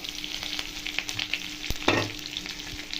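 Green chillies and curry leaves sizzle in hot oil for a vegetable tempering, a steady crackling fry with a few sharper spits and a brief louder burst near the end, close and without talk.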